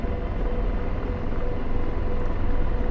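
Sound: AH-64 Apache helicopter flying in video game DCS

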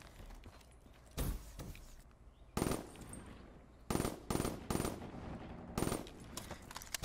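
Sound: MBA7 gun firing four-round bursts in a video game

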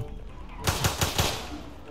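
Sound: gunshots in the Roblox video game

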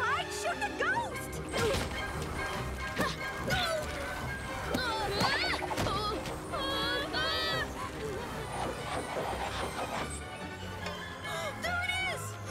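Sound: books hurled by a ghost crashing, cartoon

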